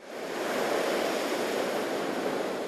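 High waves driven by a storm surge from Storm Ciarán pound the Sussex coast at Climping, making a steady, loud, broadband roar of surf that fills the whole stretch without pause.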